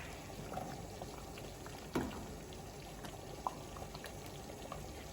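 Thick plum jam bubbling in a pot with soft gurgling and occasional sharp pops and spits, fairly quiet and close.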